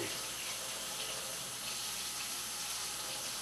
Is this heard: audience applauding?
no